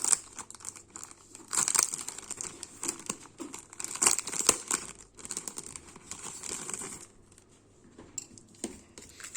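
Paper being handled and crinkled while unboxing scrapbooking supplies, close and fairly quiet, in irregular bursts of crackling and rustling separated by brief pauses.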